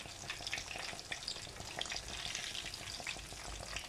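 Breaded chicken cutlets frying in hot oil give a steady, dense sizzle with crackling pops throughout, close and continuous, with no voices.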